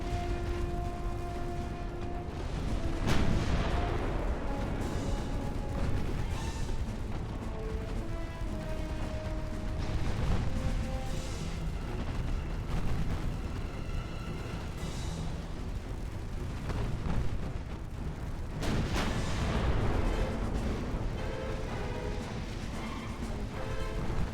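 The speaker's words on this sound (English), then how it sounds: "You guys have like hundreds of rounds of ammunition going down range at that thing." Warships trade naval gunfire in the Ultimate Admiral: Dreadnoughts video game with 1890-era hulls, giving a dense, continuous rumble of distant booms and crashes, with a couple of louder blasts and faint tonal game sounds over it.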